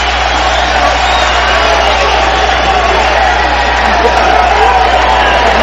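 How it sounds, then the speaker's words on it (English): A boxing arena crowd roars steadily, a loud, continuous wall of cheering and whoops at ringside, with no break in the noise. "Crowd and Van Andel up and cheering."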